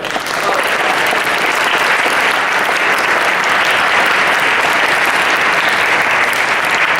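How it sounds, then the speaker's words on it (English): A conference audience gives a panel a steady, dense round of applause, loud and continuous throughout with no talk over it. "We'll give another round of applause"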